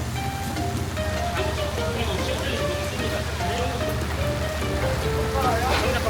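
Rain falling steadily at an outdoor fishermen's festival market in Tongyeong, a continuous broadband patter close by under scattered voices and crowd talk.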